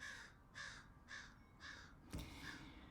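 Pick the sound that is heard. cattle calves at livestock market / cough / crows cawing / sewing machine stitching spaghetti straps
crows cawing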